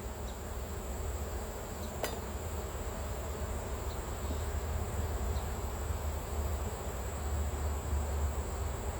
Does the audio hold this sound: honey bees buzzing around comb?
yes